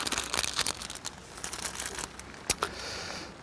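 Plastic packaging around a fishing card rig crinkles and crackles as it is opened, with close, irregular bursts of rustling and a couple of sharper snaps.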